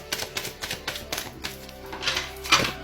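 Cartomancy cards shuffled and drawn, a string of quick crisp taps and flicks in an uneven rhythm, close and fairly soft.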